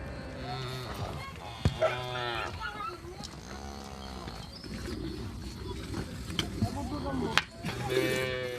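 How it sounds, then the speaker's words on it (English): Cattle moo repeatedly during milking at a Himba homestead in Namibia, drawn-out lowing calls near and far, with birds cooing and people talking in the background. "the cows are milked."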